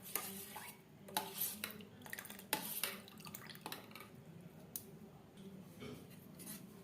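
Custard ice cream mixture is stirred in a bowl, with soft scraping and irregular clinks of a utensil against the bowl, quiet and close with no talking.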